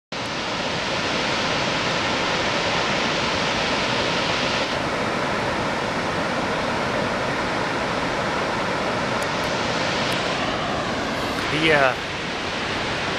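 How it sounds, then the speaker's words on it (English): Cumberland Falls, a large waterfall in Kentucky, roars as a steady, dense broadband rush that fills the whole clip at close range, with a brief voice near the start. "I'll update you when I get down here to the waterfall."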